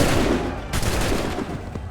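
Musket volley fire in the video game Assassin's Creed III: dense, loud overlapping gunshots crackle through the full two seconds, a sharp fresh burst landing partway through.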